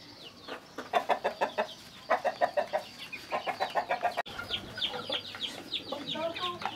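Bangkok-breed fighting chickens about three months old cluck in quick rhythmic bursts of short repeated notes, fairly close, with a few other chicken calls and a faint voice in the background.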